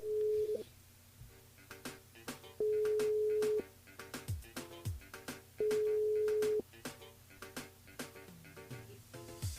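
Telephone line tones during a live call to a radio game contestant: repeated steady beeping tones in bursts, with dialing blips and clicks over a faint background, no ringing voice yet.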